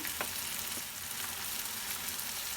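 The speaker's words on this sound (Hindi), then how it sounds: "साथ ही इसमें हमने मटन डाल के उसको भूनना है।" Mutton fries with tomato, salt, red chilli, turmeric, cumin, dried coriander and nigella for a karahi, a soft steady sizzle with a couple of faint stirring scrapes, fairly quiet.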